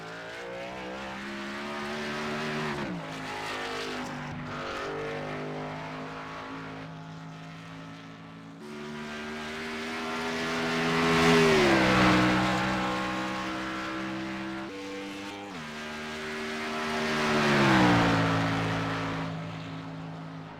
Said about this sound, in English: He's running the Chevy Z1 Camaro.